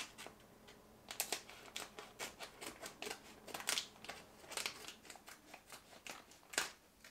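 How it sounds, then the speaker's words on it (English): Scissors snipping open a plastic bag of peanut butter cookie mix, a series of quiet, close, irregular cuts and crinkles spread over several seconds. "Will you hold the bag while I cut it open?"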